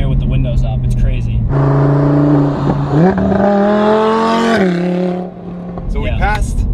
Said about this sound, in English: The car does not sound as loud as it actually is from the back when you're in here with the windows up.